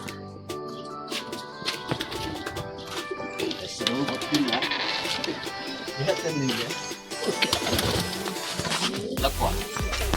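Fancy pigeons coo at a breeder's loft in Sirsi. The soft, repeated cooing runs throughout, with people talking and other busy background sound over it.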